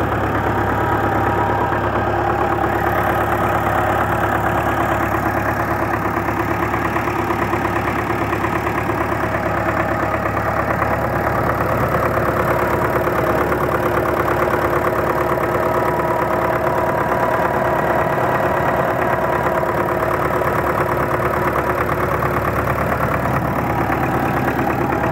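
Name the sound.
D243 diesel engine idling after fuel pump repair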